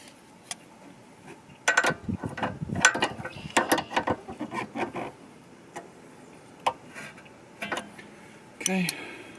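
Stainless steel brake line fitting being screwed in by hand on a MK7 Golf R, heard as a string of close, sharp metallic clicks and ratcheting taps coming in irregular bursts, with quiet gaps between them.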